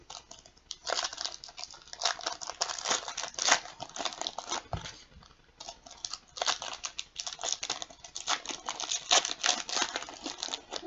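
Foil packs of 2017-18 Panini Select basketball cards being torn open and handled, a steady stream of crinkling, tearing and sharp rustling bursts up close, continuous with brief pauses, no talking.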